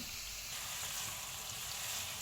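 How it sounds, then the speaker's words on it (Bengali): Chopped onions frying in hot spiced oil for a chicken curry, giving a dense, even sizzle that stays close and constant throughout. "এই ভাজা মশলার সাথে দিয়ে দিচ্ছি পেঁয়াজ কুচি এক কাপ পেঁয়াজটাকে কিছু সময় ভেজে নিব"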